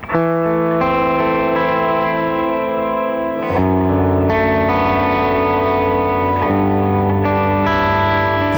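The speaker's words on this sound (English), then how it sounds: "I do use on this what's called Terra Echo. It's more like it's like a reverb." Sustained electric guitar chords ring out through a Terra Echo effect with heavy echo and reverb, each new chord smearing into the lingering tail of the last.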